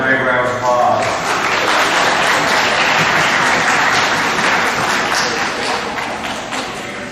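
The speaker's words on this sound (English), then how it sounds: "Give them a big round of applause." Sustained audience applause fills a school awards assembly for middle school students, a dense, steady wash of many hands clapping that holds at a loud, even level throughout with a few crowd voices mixed in.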